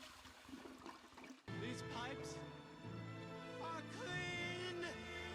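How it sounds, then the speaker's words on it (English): A toilet flushes in the Silent Hill video game, a loud gurgling rush of water that starts suddenly after a muffled lead-in and keeps swirling and draining, with a voice talking over it. "Flushing the toilet, the ringing stops,"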